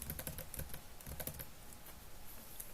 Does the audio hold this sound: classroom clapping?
no